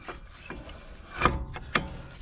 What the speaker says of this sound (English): You're just going to slide your pulley through, okay?